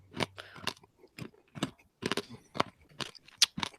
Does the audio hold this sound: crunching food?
yes